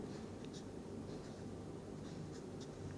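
Chalk or a marker scratches across a board during a chemistry lecture, leaving short faint squeaky strokes over a steady room hum, with no one talking.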